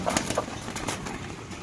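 Pigeons at a pigeon market, with soft coos and faint flutters under a continuous bustling background, no clear voices nearby.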